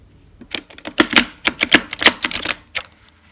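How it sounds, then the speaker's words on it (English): Quick crisp riffling bursts of a tarot card deck being shuffled, several rapid flutters in a row, close and fairly loud with no talking. "so they shuffle nicely."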